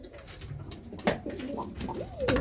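Roller pigeons coo in a breeding loft: soft rolling coos come and go against a low steady background, with a brief sharp knock partway through.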